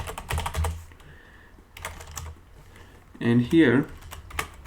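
Computer keyboard typing during a coding session, with bursts of quick key clicks close by, separated by pauses, and a louder cluster of keystrokes near the end. Someone speaks briefly between the taps.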